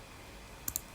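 Two quick mouse clicks, close and crisp, sound near the end of a short quiet stretch while working in Solidworks CAD software on a circulating reamer design.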